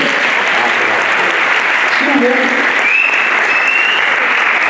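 Steady, dense applause from an audience at a youth meeting in Manisa, a loud continuous wash of clapping across the whole stretch with faint voices mixed in.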